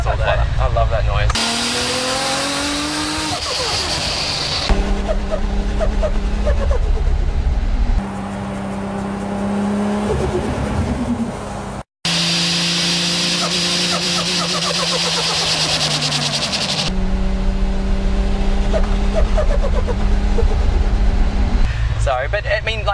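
A turbocharged car engine revs in long rising and falling pulls, with the turbo fluttering each time the throttle is lifted. The sound is loud and close and repeats over several cycles.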